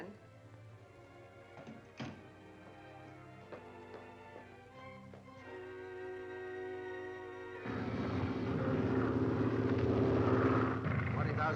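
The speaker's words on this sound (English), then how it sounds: "He and Dr. Zarkoff are up in the plane making observations." A propeller airplane flies at altitude, its engine droning low and steady under dialogue in an old Flash Gordon serial, then swelling to a louder, fuller roar near the end.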